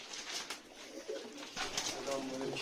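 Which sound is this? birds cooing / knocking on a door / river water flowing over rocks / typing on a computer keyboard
birds cooing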